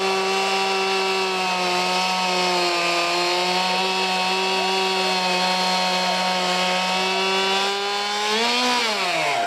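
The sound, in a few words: old chainsaws at a chainsaw competition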